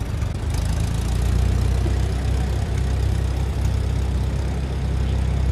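A restored orange 1949 Case LA tractor idles steadily at a classic tractor parade and show, a loud, continuous low engine rumble that stays close and even throughout with no talk over it.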